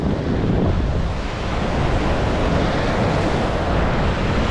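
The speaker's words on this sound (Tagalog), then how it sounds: "malakas ang hangin" Strong wind buffets the microphone in a continuous roar while fishing, mixed with the wash of waves, loud and steady throughout.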